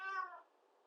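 A house cat gives a single short meow, faint and close, that trails off quickly in a quiet room.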